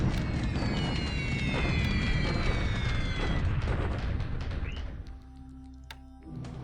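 Bombing raids in a Pacific war strategy video game play out as a dense, continuous rumble of explosions and booms that fades and thins near the end.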